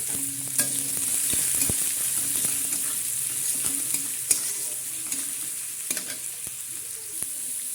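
Chopped onions drop into hot tempering oil for dal tadka, frying with a steady crackling sizzle and scattered sharp clicks of a spatula stirring, close up with no voices.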